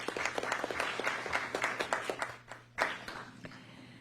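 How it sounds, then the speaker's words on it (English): An audience at a school board meeting applauds: a dense patter of clapping from a modest crowd in a room, fading briefly before a short renewed burst, then tapering off. "So let's give a big round of applause for Sarah Knox."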